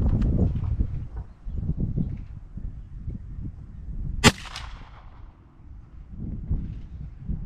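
A single sharp Henry Big Boy rifle shot cracks once at a target during outdoor accuracy testing, loud and brief against steady low rumble and faint background noise.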